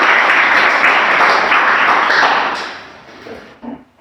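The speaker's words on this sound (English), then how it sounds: "a little bit of applause for our panel" Applause from a conference audience greeting a service design panel, a steady dense patter of clapping that holds strongly and then thins and fades out near the end.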